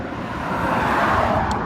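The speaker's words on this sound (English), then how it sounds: "I apologize for all the cars here. This is a country road," A car passes along a small country road at peak hour, a steady rising and fading road rumble with tyre hiss swelling toward the middle, fairly near.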